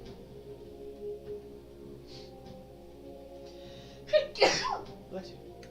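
A single sudden sneeze bursts out near the end, close and fairly loud, over a quiet room during a tabletop game session where people talk around it.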